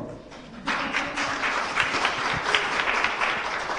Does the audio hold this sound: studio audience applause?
yes